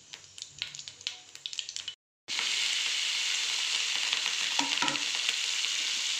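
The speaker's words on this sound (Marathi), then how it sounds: "आता मी त्यात मिरची टाकून घेतो." Green chillies dropped into hot oil with bloomed cumin seeds. After a few stirring clicks and a brief silence, a loud, close, sustained sizzle bursts up and carries on, with occasional scrapes, and nobody speaks.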